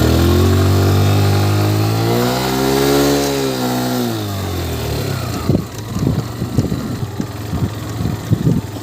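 A motorbike on a night ride from Cuttack toward Puri revs and accelerates without gear changes, its loud rising then falling engine whine giving way to choppy sputtering and wind buffeting.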